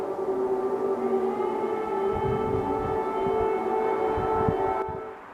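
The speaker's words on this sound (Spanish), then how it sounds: "Las sirenas antiaéreas se escuchan en Kiev." A steady, droning air raid siren wails in the distance over Kyiv with a low rumble beneath it, fading out abruptly near the end.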